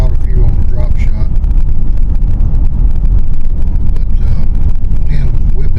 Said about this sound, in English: But wind whipping today is probably blowing 25 miles an hour